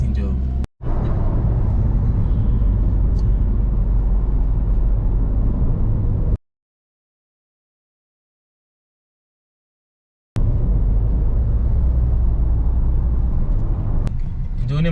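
Car driving through the Central Region of Ghana on the way to Cape Coast, with a steady low road and engine rumble that cuts out briefly in the middle and then returns.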